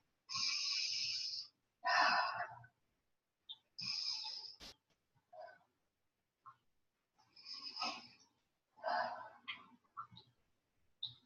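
Long, deep breaths drawn through hands cupped over the mouth and nose after rubbing essential oil between the palms, heard as about five slow, airy, close breaths separated by quiet pauses.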